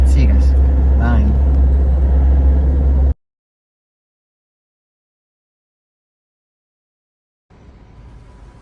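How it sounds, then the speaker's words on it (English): Car driving through Vancouver heading toward the ferry terminal, a loud steady low engine and road rumble with a voice talking over it for about three seconds, then silence, then the rumble returning more quietly near the end. "So weird to be driving in Vancouver right now, and so many Teslas."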